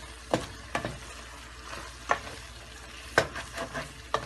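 Capsicum and minced meat (qeema) stir-fry in a pan with a low background sizzle, punctuated by several distinct scraping knocks of the spatula at uneven intervals, close and without speech.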